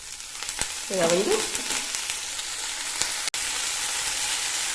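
Ponnanganni greens dry roasting in a pan without oil over a low flame give a steady, close, soft rustling crackle, with a single brief spoken word partway through.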